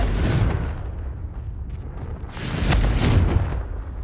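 A Confringo fire spell explodes in the Hogwarts Legacy video game, two deep, rolling booms in quick succession that rumble loudly and close, with no voices over them.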